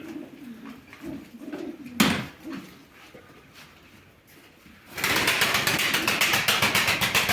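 Male pigeons in a loft coo in soft, repeated low rolls, with a sharp flutter of wings midway and a burst of loud wing-flapping near the end, close by.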